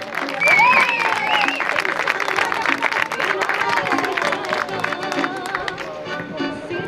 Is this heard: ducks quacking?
no